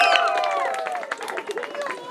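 A crowd cheers and shouts with scattered applause at a festive afternoon gathering in Cantón Ciricuario, a steady near roar of voices and whistling tones with claps rising through it.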